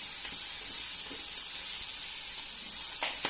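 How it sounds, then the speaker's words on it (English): Prawns sizzling as they sear in hot ghee or oil in a pan, a steady close hiss of frying with a couple of brief sharper spits near the end. "I'm just sealing the prawns with a tiny little bit of the ghee or oil or whatever you've got"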